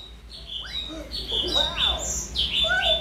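A tame pet lovebird gives close, bright chirps and short squeaky calls in quick, irregular bursts.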